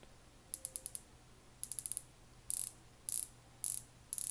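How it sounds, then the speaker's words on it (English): Rotating bezel on a Tudor Black Bay 58 watch, heard as crisp close clicks, first in quick runs of four or five, then in a few short buzzy ratcheting bursts, against near silence. "there is a lot more click to the bezel action"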